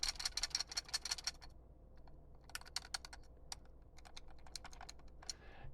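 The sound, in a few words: X-Gunner controller rattling and clicking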